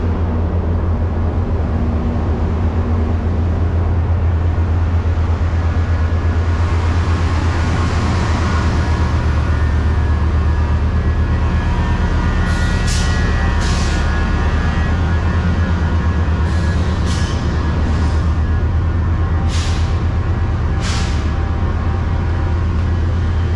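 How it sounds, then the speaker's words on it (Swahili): Trains at Union Station give a continuous loud low rumble of idling engines and rolling cars, with a few sharp hissing bursts in the second half and no talking. "Hizi ndo treni."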